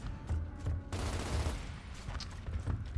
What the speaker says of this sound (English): We're taking heavy fire from a troika